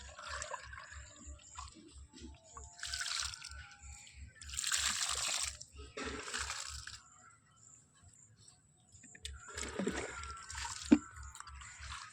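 Water is poured onto chili seedlings in a field, coming in several separate splashing and trickling bursts over soil, with a steady low rhythmic thumping underneath and no talk.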